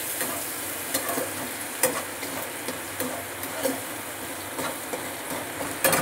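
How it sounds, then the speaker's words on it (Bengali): Garlic stirred and frying in hot oil in a pan, a steady dense sizzle with scattered scraping clicks from the stirring, close and continuous with no talking. "রসুনটা একটুখানি নাড়াচাড়া করে নিচ্ছি।"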